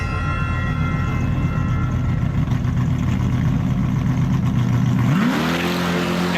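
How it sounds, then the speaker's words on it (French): Loud tuned street-race car engines roar and rev steadily at the start line, then surge sharply upward in pitch as the cars accelerate hard near the end. "les voitures s'élancent"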